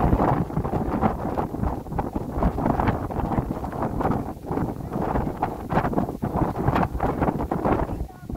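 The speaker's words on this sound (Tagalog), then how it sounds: "hindi kami makapag-set kung saan kami mag-pitch ng sobrang lakas ng hangin" Strong wind gusts across a campsite on Mount Batulao, roaring and buffeting the microphone continuously with a rough, blustery rumble, loud and close throughout.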